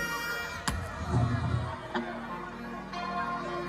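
A crowd at a live dancehall birthday party show in St Ann cheers and screams in bursts. The noise sits under a loud mix and amplified speech.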